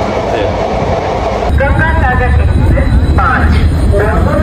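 An express train pulls into Asansol railway station, its rumbling, rattling wagons filling the space with loud continuous noise while passengers chatter in a murmuring crowd inside the carriage.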